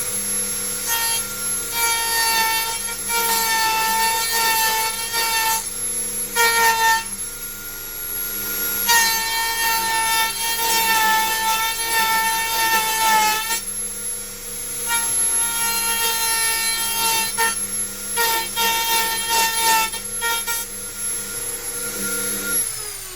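A Dremel router with a 3.2mm bit cuts sassafras wood on an acoustic guitar body, giving a loud, steady high motor whine with grinding cutting noise that dips briefly between passes.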